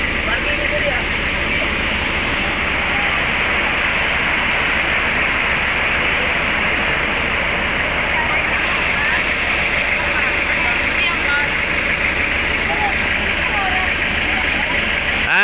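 Tagbibinta Falls, a waterfall in Maragusan, roars as a steady, loud broadband rush of falling water throughout, with faint voices underneath.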